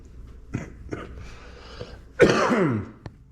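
A few scattered coughs and throat-clearing sounds, then a louder, rougher burst of coughing, close by with no talking.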